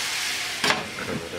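Hibachi chicken and rice sizzling in a pan make a steady, close crackle, with a brief louder hiss and stirring scrape in the middle before settling back to an even sizzle.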